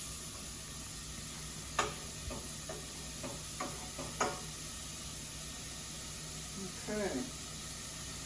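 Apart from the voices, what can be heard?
tomato spinach pasta sizzling in one pot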